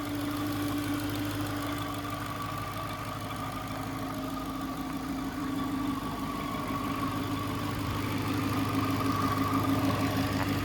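Steady close idle of a Dodge Charger R/T engine with a 3.0 Whipple supercharger, its loud ID 1050 injectors adding a rapid ticking over the even low hum throughout.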